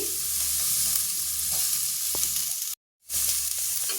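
Chopped onion and capsicum fry in a pan and are stirred, giving a constant close sizzle with scraping strokes. The sound cuts out briefly to near silence, then resumes. No one speaks.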